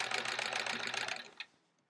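Sewing machine with a walking foot quilting straight lines, a rapid close mechanical rattle of stitching that runs steadily and then stops, leaving a brief click and quiet.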